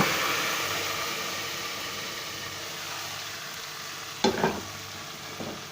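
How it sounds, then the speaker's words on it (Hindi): A hot baghar of tempering oil is poured into a pot of pakora kadhi, giving a sudden loud sizzling burst with a second smaller crackle, over a steady hiss of a pot cooking on low heat. "अब हम इसको डालेंगे कड़ी में।"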